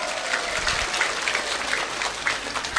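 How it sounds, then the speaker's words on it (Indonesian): Audience applause at an Islamic religious gathering, a steady dense wash of clapping from a crowd that holds evenly for a few seconds. "tepuk tangan dulu dong"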